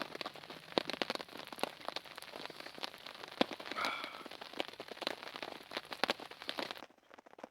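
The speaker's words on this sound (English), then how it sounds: "I can't hear much with the tarp and the rain hitting the tarp" Rain drums on a hammock tarp during a storm at a UK woodland camp: dense, close crackling patter with sharper drops striking throughout, cutting off abruptly near the end.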